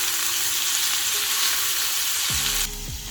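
Fish frying in a pan, a steady hissing sizzle of oil that fills the clip evenly, with a brief low clunk near the end and no talking.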